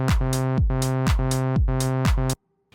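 A deep Arturia Mini V synthesizer bass line pulses in a repeating pattern of thick, buzzy notes, then cuts off abruptly into near silence.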